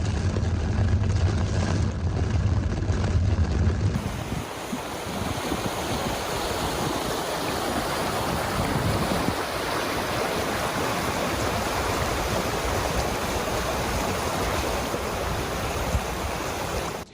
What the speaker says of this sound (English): moderate to heavy rains accompanied by fresh winds, which caused a number of wadis and tributaries in the Wilaya to overflow